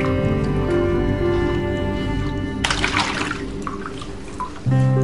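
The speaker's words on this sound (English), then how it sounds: "Shower." Shower water runs steadily with a broad hiss, shifting to a harder, brighter spray partway through and then easing off near the end, with a low hum underneath throughout.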